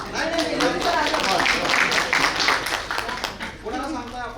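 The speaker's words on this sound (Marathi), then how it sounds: "सरांसाठी जोरदार टाळ्या" Audience at an artificial intelligence workshop claps for a guest: a steady patter of scattered hand claps, moderately close, lasting a few seconds with a brief lull near the end.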